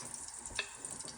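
Stir-fry noodles are stirred in sesame oil with a soft sizzle, brief scraping strokes and a few light clicks, close and quiet, over a short moment.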